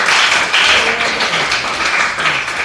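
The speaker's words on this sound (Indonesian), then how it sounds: "Tepuk tangan dulu" Students in a classroom burst into loud, close, continuous clapping, a thick rattle of many hands filling the whole stretch.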